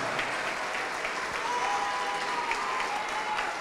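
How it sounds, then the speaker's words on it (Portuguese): A church congregation at an evangelical worship service claps steadily together, a dense wash of applause that holds at a moderate level with no pause, and a faint tone drifting through it. "Vamos aplaudir mais."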